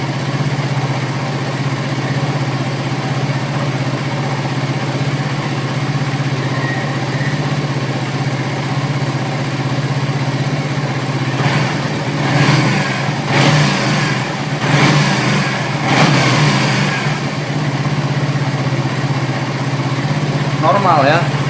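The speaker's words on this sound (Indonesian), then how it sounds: "Udah gerung kan, kita coba gas" A Suzuki GSX R150 motorcycle engine, on the bench during throttle body servicing, idles steadily and loud, then revs in a few rising bursts later on, with voices talking over it.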